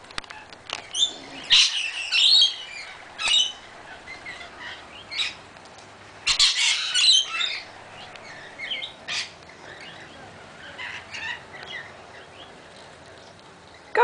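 Parrots squawking and chirping nearby, with loud bursts of harsh squawks between shorter chirps and tweets, irregular and spread across the clip.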